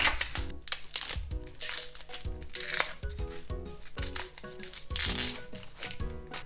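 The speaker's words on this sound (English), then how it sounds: "I'm gonna cut first the onion." Knife slicing an onion thinly on a cutting board while making katsudon, with a rhythmic series of crisp chops and crunchy cuts close by and no talk.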